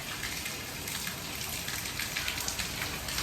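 Heavy rain falls steadily on an outdoor surface, a dense continuous hiss with scattered close drop patters, moderately quiet and with no voices.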